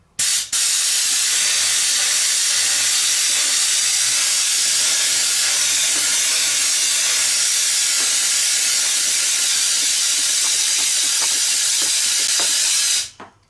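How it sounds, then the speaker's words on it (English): Compressed air blasting in a continuous loud hiss, used to draw gas out of the fuel tank of a Kawasaki KFX700 quad, starting abruptly and cutting off after about thirteen seconds. "So I'm going to stick it in here and see if we can get the gas to suck out using compressed air."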